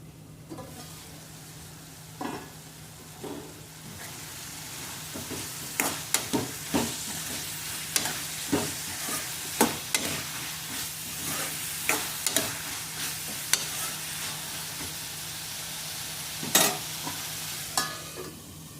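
Tomatoes cooking in a covered pan for a Nellore brinjal and drumstick curry, a steady soft sizzle with a low hum underneath and scattered sharp clicks and taps of a utensil against the pan throughout.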